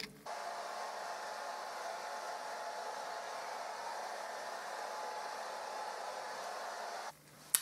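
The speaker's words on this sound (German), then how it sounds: "Und ich werde meine Haare so über Kopf föhnen und werde dann immer die Haare so in den Diffuser reinlegen" A hair dryer fitted with a diffuser blows hair dry upside down, a steady, close, unbroken airflow roar lasting about seven seconds before it cuts off abruptly.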